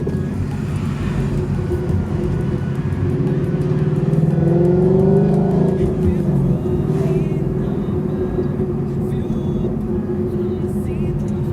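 A Ford Mustang GT engine with GT500 axleback exhausts rumbles steadily with a low exhaust tone, swelling briefly as it revs mid-way before settling back to an even drone.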